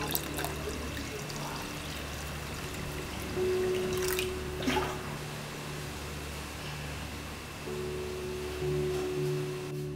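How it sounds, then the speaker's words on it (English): Water is poured into homemade wine must in a soda bottle, giving a soft, steady trickle that runs throughout at low level, with a few brief clinks and a faint steady hum behind it. "I'm going to add just a little bit more water to this to bring it to that amount"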